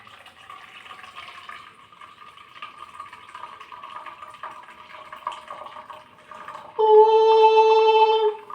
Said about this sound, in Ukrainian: Так, зливаємо воду.